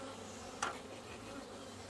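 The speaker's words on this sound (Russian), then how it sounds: "Это пчелы." Honey bees at a village beekeeper's hive hum steadily and close up, with one brief louder buzz as a bee passes near, and no voices over the drone.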